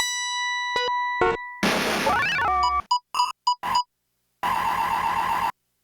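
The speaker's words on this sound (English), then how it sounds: "That's the drift noise." Drift sample from the Power Drift arcade racing game's sound engine, played back through a sampler: short synthetic tones and blips, a sweeping squeal, chirpy bursts and a sustained buzzing tone, with no talk.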